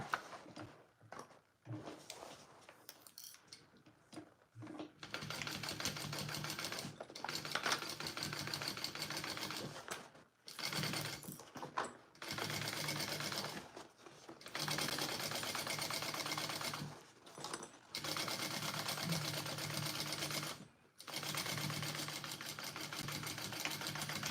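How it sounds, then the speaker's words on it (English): A home sewing machine runs along a seam on a Sincerely Jen Patterns Mr. Heckles garment, whirring steadily in repeated stretches broken by brief stops, close and clear with no talk. "Okay. Let's sew this."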